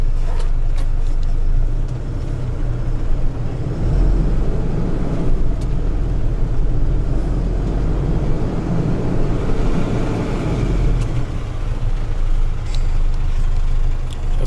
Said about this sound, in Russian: Сейчас вот его загоним на вот эти чудо-весы и взвесимся.